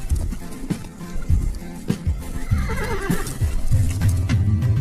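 A horse whinnies loudly over a busy, continuous wash of sound, with galloping hoof beats in a steady rhythm running throughout.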